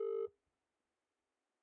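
Telephone dialing in a video game: one short, steady electronic tone lasting a quarter second, followed by near silence apart from a faint click at the end.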